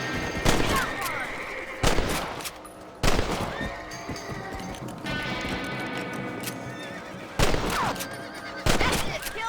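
Gunfire in Red Dead Redemption during a rabbit hunt, several sharp broadband shots spaced a second or more apart, ringing over horse whinnies and clip-clopping hooves, with a voice speaking in the background.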